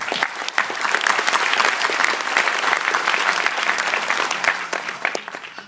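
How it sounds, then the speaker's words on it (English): A large audience at a university graduation ceremony gives a sustained round of dense, even applause that fills the hall for several seconds before starting to fade. "Another round of applause for Vipin."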